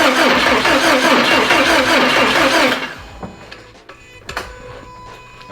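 A boosted Subaru 86 engine cranks loudly and continuously as the starter churns, trying and failing to fire, then cuts out, leaving faint clicks and clunks in near silence.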